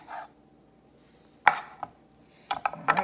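Knife slicing through boiled cow tongue on a cutting board, a few sharp cuts and taps spaced out, close and fairly quiet, with near silence between strokes.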